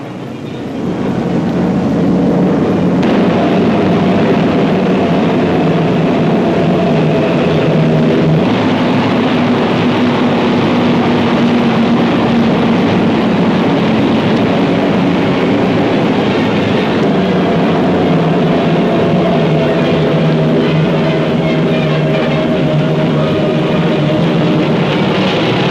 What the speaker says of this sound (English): Bostons and Baltimores flew in over land and sea to blast Rommel's hard-pressed troops.